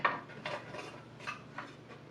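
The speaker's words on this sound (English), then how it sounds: "Set the pan and all of the little rubber corners that fit in the things of the pan into the table." Metal sewing machine pan fitted with small rubber corners being set into a table: faint, scattered clanks and light scraping knocks, a few separate taps over a quiet background.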